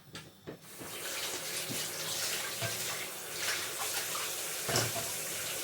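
Warm water runs steadily from a tap onto frozen meat, a continuous close splashing rush with no voices.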